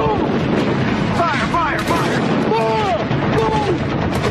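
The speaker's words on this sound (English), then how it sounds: "Within minutes, the dark Southern California coast is rippled with beams of light and streaks of anti-aircraft" Anti-aircraft fire over a dark Southern California coast, heard as a dense, continuous barrage of gunfire and booming rumble with whistling, descending tones cutting through, loud and sustained throughout.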